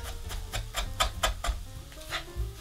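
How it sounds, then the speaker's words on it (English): Salt and sugar are stirred into a mixture for sundubu jjigae, with about eight steady, rhythmic scraping strokes of a utensil against the bowl, close and fairly quiet. "add your salt and sugar and thoroughly mix"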